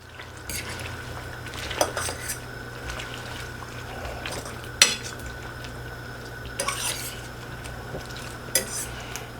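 Homemade crab boil seasoning being mixed in a bowl, with soft repeated scraping and several sharp clinks of a utensil against the bowl at irregular intervals, fairly close.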